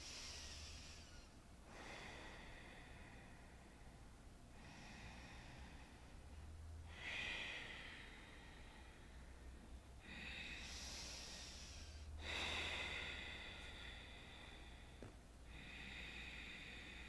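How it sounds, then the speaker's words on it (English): Slow, deep breaths during a yoga session, each long hissing inhale and exhale audible in a steady rhythm of airy swells over a low background hum. "breathing deeply."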